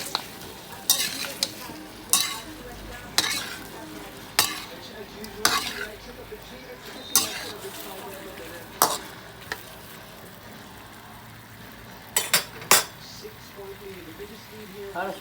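Food frying in a pan while being stirred, a soft continuous sizzle broken by repeated sharp scrapes and clinks of a utensil against the pan at irregular intervals, with faint talking in the background.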